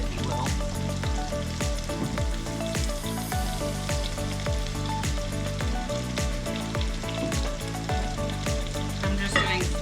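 Cherry tomatoes cook down in a pan for an oyster mushroom pasta, giving a steady, close sizzle and spatter that runs unbroken throughout, with no talking.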